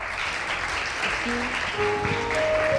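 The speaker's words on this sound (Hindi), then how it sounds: "बहुत सारी तालियां फहमीदा के लिए एक बार फिर" A studio audience on a television variety show claps for a guest, with even, moderate applause continuing throughout while a few faint tones sound toward the end.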